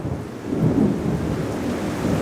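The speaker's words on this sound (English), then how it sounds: "this storm is no joke" A heavy thunderstorm over a neighborhood, with rolling thunder rumbling low and close beneath a steady wash of falling rain, no voices present.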